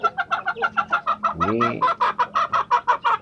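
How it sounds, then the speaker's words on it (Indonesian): Village chickens in a coop cluck in a rapid, regular close-up rhythm, broken by a short loud crow partway through, with a man's brief word near the start. "Ini ayam kampung, bukan ayam Bangkok nih."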